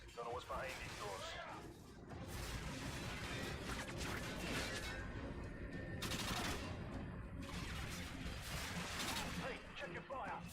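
Rapid bursts of automatic gunfire and crashing impacts ring out in the 2009 video game Call of Duty: Modern Warfare 2, loud and continuous, with brief pauses between volleys and a voice talking over the shooting.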